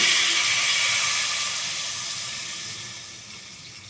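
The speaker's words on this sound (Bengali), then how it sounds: "পরিমাণ মতো পানি দিয়ে দিচ্ছি।" Water is poured into a hot cooking pot of vegetables for a sour green mango dish, a loud rushing hiss that gradually tapers off.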